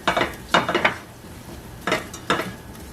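Flour and melted butter stirred together into a roux in a pot, five bursts of scraping, clinking utensil strokes in two clusters with quiet gaps between.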